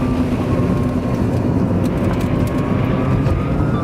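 A 2010 Tesla Roadster Sport, a Lotus-based electric sports car, driving along with a steady, loud whir of motor and road noise that holds constant throughout, with a faint high whine running over it.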